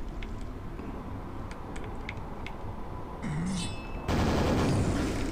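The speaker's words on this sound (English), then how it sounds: "Oh, that's just a super nail gun." Rapid, continuous firing of the super nail gun in the Quake re-release on Xbox One, a dense mechanical rattle under steady game background noise that grows louder near the end.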